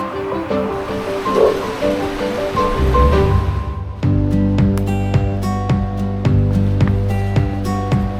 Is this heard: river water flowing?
yes